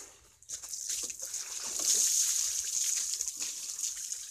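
Steady running water splashing while a motorcycle is washed outdoors, a continuous hissing flow with small sloshes and drips, fairly close and alone without talk.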